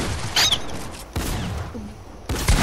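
Bursts of game gunfire from a fine gun: three loud broadband volleys spaced about a second apart, each a short rattling fusillade with a sharp attack and quick decay, no talk over them.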